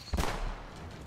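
A single muffled gunshot in Metro Exodus booms with a short low-pitched thud, followed by a fading rumble and faint background noise.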